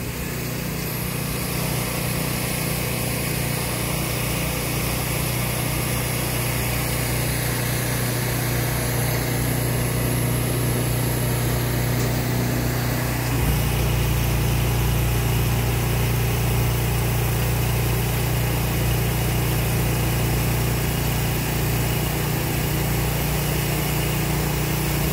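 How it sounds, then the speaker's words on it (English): Hydraulic system lifting the deck of a Landoll 455B trailer: a steady engine-driven mechanical drone, loud and continuous, that shifts to a deeper, heavier tone partway through as the load on the hydraulics changes. "I'm going to go ahead and start lifting up the deck and putting it down for the lower loading angle"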